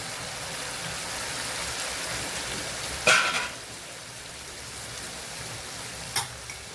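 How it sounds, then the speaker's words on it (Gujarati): Spices sauté in hot oil for a spicy Kathiyawadi whole cluster bean curry, giving a soft, steady, rain-like sizzle, with two brief clinks of a utensil and no talking. "મસાલાને સરસ આપણે સાતડી લેવાનું છે એકદમ તેલ છૂટ પડી જાય ત્યાં સુધી આપણે મસાલાને સાતડવાનું છે"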